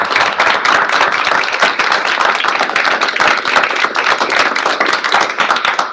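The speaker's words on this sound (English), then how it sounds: "So please, a big round of applause." An audience at a refugee-welcoming event bursts into loud, close applause, many hands clapping in a thick, continuous wash that holds steady for several seconds with no voices.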